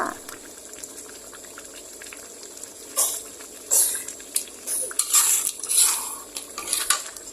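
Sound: gently stirring stir-fried stingray with oyster sauce in a pan

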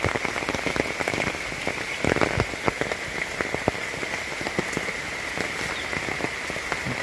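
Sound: heavy rain falling on a paddy field

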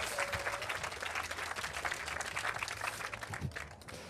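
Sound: audience applause

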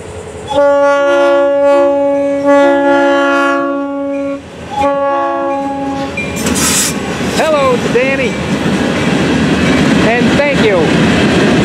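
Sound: freight train passing

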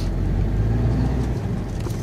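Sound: truck being driven to the roadside

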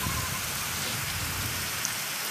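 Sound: light rain falling

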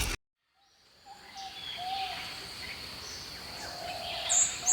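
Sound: many birds flapping wings approaching from afar, story sound effect

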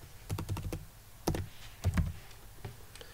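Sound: typing on a computer keyboard

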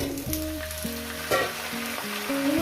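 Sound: frying in a pan for fish head pui shak chachori

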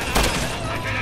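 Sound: gunfire in the video game Resident Evil 6

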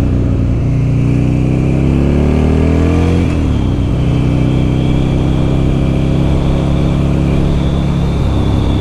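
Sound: motorcycle engine revving

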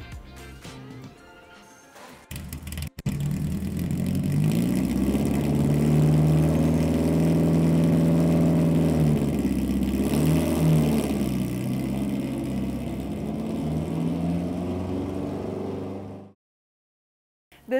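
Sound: 1967 Lotus Elan engine revving, Weber carbs

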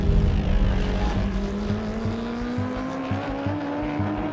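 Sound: racing motorcycle and race car at Monza track

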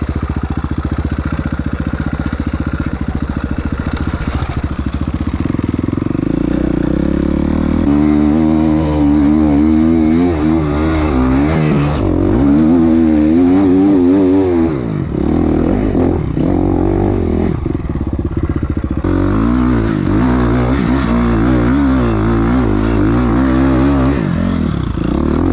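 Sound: motorcycle engine climbing steep hill

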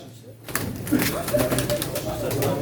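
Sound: pigeons cooing at a pigeon auction

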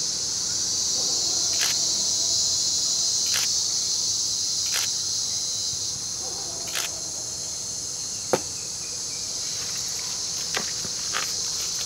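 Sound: bullet ant stridulating

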